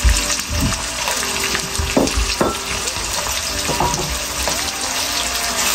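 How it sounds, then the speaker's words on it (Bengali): Onions frying in oil in a wok for a Bengali-style chana dal, a loud, continuous sizzle with occasional stirring clatter, close and without talk. "তারপর তেলে আমরা পেঁয়াজ দিয়ে দিব"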